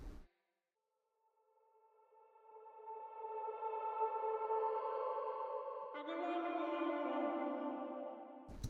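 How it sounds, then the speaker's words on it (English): Short vocal ear-candy sound, a voice pitched down an octave and processed with OTT compression, micro shift and reverb, swelling in as a sustained tonal chord, then shifting to a brighter layered timbre before cutting off. "these are just little ear candy vocal sounds that I made"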